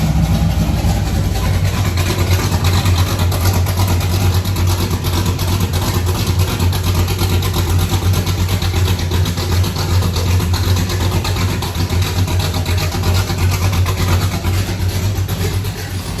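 A car engine running after start-up, a loud, steady close idle with a deep rumble holding evenly throughout, no talking, on a car with leaking power steering.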